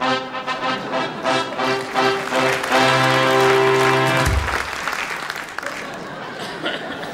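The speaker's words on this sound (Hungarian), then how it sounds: "Köszöntse közepes taps azt, akit az előbb mondtam." A theatre audience at a Hungarian comedy show claps in a dense, loud round of applause that swells and then fades, with a little laughter mixed in.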